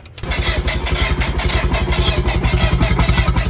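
Mazda REPU pickup with a swapped 13B rotary engine revving hard and steady up close, a loud, raspy, rapidly pulsing drone that fires up after a brief quiet start.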